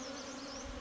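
A dense swarm of honey bees buzzes in a continuous droning hum, close and steady, with a bump of low noise at the very end and no talking.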